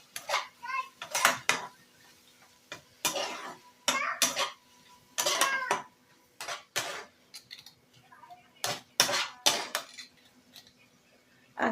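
Spices and tomato stirred and fried in a pan, a series of distinct scraping, clattering strokes of a utensil against the pan in bursts with short pauses between.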